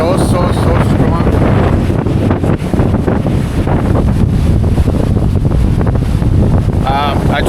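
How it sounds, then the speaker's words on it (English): Strong wind buffets the microphone at Lake Worth Beach on a blustery day, a loud, continuous roar with steady gusts throughout and faint voices briefly audible near the end. "it's gonna be hard for you guys to hear me because the wind is so strong"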